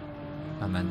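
Race car engine in Gran Turismo 7 coasting in third gear during a Super Licence test, a steady droning tone that rises slightly near the end, under a voice.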